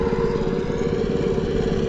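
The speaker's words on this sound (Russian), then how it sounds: "пилят асфальт, что ли." A steady, loud mechanical drone with a rough motor-like buzz, a powered saw cutting asphalt, continuous and close.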